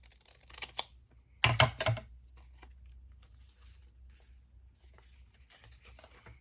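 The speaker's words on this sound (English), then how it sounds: "I'm just gonna go ahead and cut along my fold lines." Scissors cutting paper along fold lines during a craft session, a few soft snips early, then a louder cluster of sharp cuts in the middle and faint scattered paper rustles afterward.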